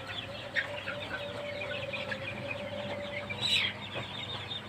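Sonali chickens cluck softly inside a poultry shed cooled by fans, with scattered short calls and one louder squawk over a constant low fan hum and no talk.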